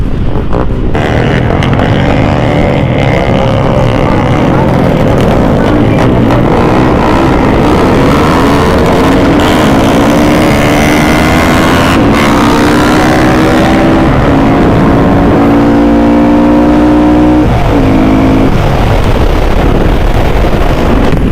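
Modified Yamaha Exciter motorcycle racing along a track, engine loud and steady as it climbs through the gears with rising pitch, heavy wind noise over it and no talk.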